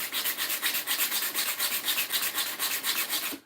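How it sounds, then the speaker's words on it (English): Hand sanding a knife with 80 grit sandpaper gives a steady run of rhythmic rasping strokes, about four per second, close and fairly loud, with no voice over it. "But let's get a little more hand sanding done, at least the 80 grit done"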